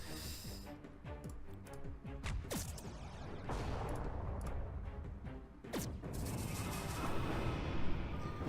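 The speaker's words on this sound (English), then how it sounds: "We in fact killed it in 2 shots" Two weapon shots in the space strategy game Halcyon 6, heavy crashing impacts with sharp bursts and rumbling booms, the first around three seconds in and a second strong blast near six seconds, loud over a busy game background.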